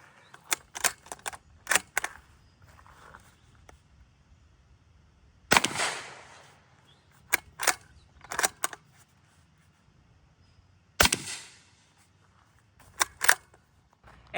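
A suppressed bolt-action rifle fires subsonic .300 Blackout, several sharp, quiet cracks spread across the clip, each followed by the clack of the bolt being worked, with near silence between them.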